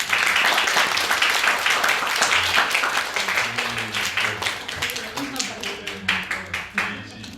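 A church congregation at a Friday worship service claps to welcome home a returning mission team, loud dense applause that thins into scattered individual claps, with a voice speaking over the end.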